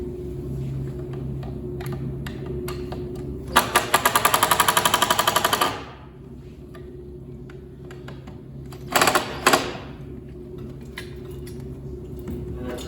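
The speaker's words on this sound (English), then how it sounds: "Let me see that drill real quick. I try to tighten these up a smidgen right here." A power drill tightening screws while mounting a wooden table top whirs in a steady burst for about two seconds, then a couple of short, quick bursts follow, with a low hum underneath.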